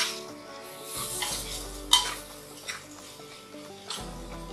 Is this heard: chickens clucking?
no